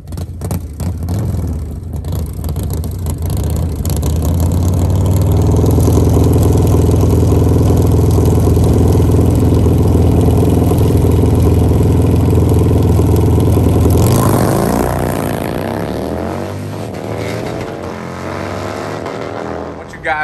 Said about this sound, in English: This is Miguel's 2020 Road Glide Special, a badass bike